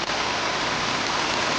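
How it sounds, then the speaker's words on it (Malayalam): Heavy rain falls in a dense, even roar, a steady close-up hiss that carries on without a break and with no voices. "നല്ല അടിപൊളി മഴ ഉണ്ട്"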